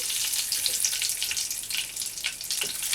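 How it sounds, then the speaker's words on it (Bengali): Whole cardamom, cloves and cinnamon frying in hot oil left from frying katla fish, a bright crackling sizzle with small pops, steady and close, no voices. "ওই তেলের মধ্যে দিয়ে দেব এলাচ, লবঙ্গ, দারচিনি"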